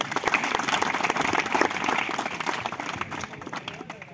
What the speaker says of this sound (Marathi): सर्वप्रथम जे आयोजक आहेत त्यांच्यासाठी जोरदार टाळ्या झाल्या पाहिजे।